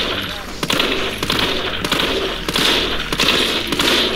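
Gunfire at zombies in Resident Evil 3's first-person mode: loud repeated shots in irregular bursts, with sharp cracks spaced through four seconds over a game soundtrack, and a voice talking at times.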